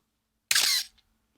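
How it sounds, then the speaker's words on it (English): A single camera shutter fires in otherwise silent surroundings, a sharp close click followed by a brief raspy mechanical whirr that sounds faulty, then a faint tick. "I was complaining about how my shutter sounds like something that's dying"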